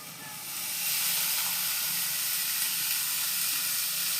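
Chopped banana flower hits a hot pan and sets off a loud, steady sizzle and hiss that swells within the first second and then holds evenly, close and with no talking over it.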